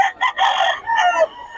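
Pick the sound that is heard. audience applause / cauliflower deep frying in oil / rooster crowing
rooster crowing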